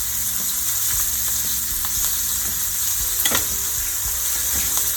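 Floured chicken pieces, skin side down, brown in hot oil over medium-high heat for Southern smothered fried chicken, giving a steady, dense sizzle close by with a few faint utensil taps and no talking.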